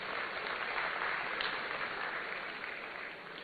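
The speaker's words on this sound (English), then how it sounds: "Let's give him a round of applause as well." Sustained applause from a crowd at a university student entrepreneurs event in Ghana, steady and moderately loud, tapering slightly toward the end, with no speech over it.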